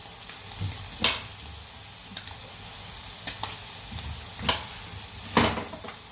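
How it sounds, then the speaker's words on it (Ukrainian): Cod fillets fry in a pan with a steady, close sizzle and spatter, broken by a few sharper pops and crackles; no voices. "поки рибка ожарюється з другої сторони"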